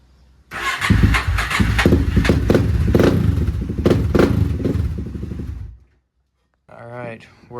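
Honda TRX400EX ATV engine cranking and catching on a new battery: about five seconds of loud, clattering, chugging engine noise that cuts off abruptly, followed by a brief voice.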